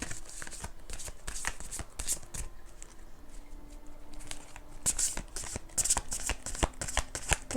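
Tarot cards riffled and shuffled close by in a run of crisp, rapid papery flutters and slaps, with brief pauses between bursts and no talking.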